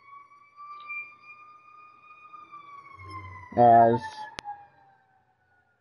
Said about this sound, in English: hearing an ambulance go by